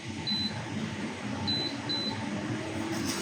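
An induction cooker gives a few short electronic beeps as it switches on, one near the start and then two quick ones, over a steady low hum of room noise.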